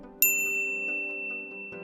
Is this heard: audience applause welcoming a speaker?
no